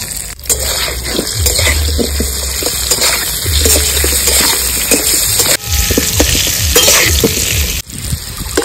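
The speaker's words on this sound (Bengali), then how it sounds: "আলু ভেজে নিয়েছি, তুলে নেব।" Potatoes seasoned with a little salt and turmeric frying in hot oil in a village kitchen, giving a steady loud sizzle with stirring scrapes throughout and a brief break near the end.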